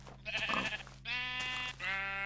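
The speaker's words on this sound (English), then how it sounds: "Is that sheep? Yes, it's a sheep." A sheep bleats twice in the Minecraft video game, each call a nasal, wavering cry, clear and close over a faint steady background hum.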